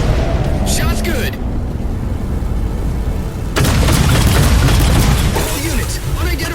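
In Halo 4, a heavy explosion strikes the Mammoth vehicle, a loud booming blast that erupts midway amid ongoing battle noise, engine rumble and radio chatter.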